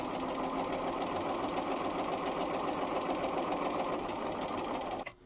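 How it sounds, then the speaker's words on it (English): A Bernina 802 sewing machine stitches a fabric seam in a fast, steady mechanical whirr, loud and close, running without a break before stopping abruptly near the end. "I'm going to sew along there."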